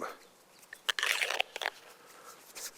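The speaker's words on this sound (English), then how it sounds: "if I was to crunch it all up" Stiff, memory-free monofilament fishing line is scrunched up in the hand, giving a close, brief cluster of crisp crackling crunches amid quiet moments.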